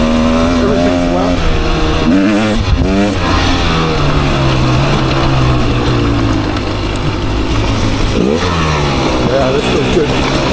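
A 2024 Beta 300 RR Race Edition dirt bike ridden on wet ground, engine loud and close, rising and falling as the throttle opens and closes, with a rider talking over it.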